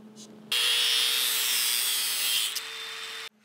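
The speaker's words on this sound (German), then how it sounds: "Jetzt schleife ich da den Radius ein von der Gabelrohr" Steady, loud abrasive grinding of a sander shaping a radius into a curved metal bracket for a moped fork tube, starting abruptly and running continuously for about three seconds before cutting off.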